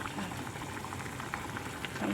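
A pot of beef stew simmers with its sauce reducing, giving a steady, close bubbling and popping hiss that continues without a break.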